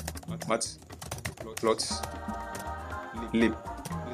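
A computer keyboard clatters as a pip install command for Matplotlib is typed in VS Code, with short bursts of keystrokes running under a person talking.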